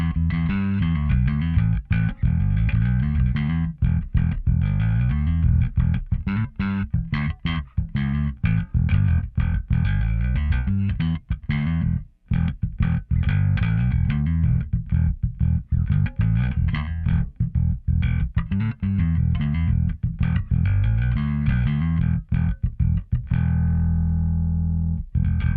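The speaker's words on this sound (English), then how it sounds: "So we're just getting raw, direct bass tone, which without the fuzz sounds like this." Electric bass played straight through with the fuzz pedal bypassed: a continuous run of close, loud, warm low notes with steady rhythmic plucking and no voices, ending on a sustained note that fades out.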